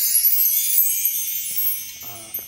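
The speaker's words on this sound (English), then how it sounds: "I also have a set of wind chimes in front of me." A set of wind chimes shimmering alone, high metallic tones ringing and overlapping steadily, with a few soft lower knocks near the end.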